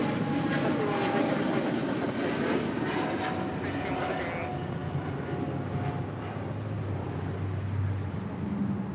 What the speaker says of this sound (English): That is Philippine Airlines Flight 113 departing to Manila on a 777-300ER